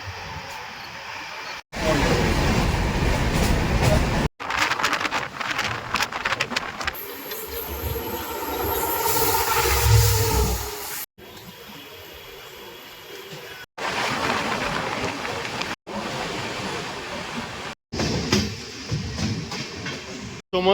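Rumbling, rattling noise inside a moving carriage of the Padatik Express passenger train, steady and loud, with abrupt cuts between stretches and a louder roaring passage midway.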